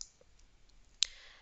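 A single sharp mouse click at about one second, heard alone against a quiet background while working in OneDrive for Business on a computer.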